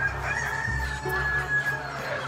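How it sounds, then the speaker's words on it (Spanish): Chickens cluck and a rooster crows amid the hubbub of a large live animal market in southern China, the birds close and busy over a low crowd murmur. "Más gallinas y perros."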